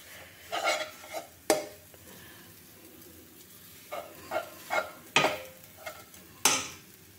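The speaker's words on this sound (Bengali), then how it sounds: "একটু নেড়ে নিচ্ছি, একটু জোরে ফ্লেমটা দিয়ে দিই" Green pea paste stirred in a wok over a high flame: intermittent spatula scrapes and clinks against the metal, separated by quieter gaps with a low sizzle, close and without voices.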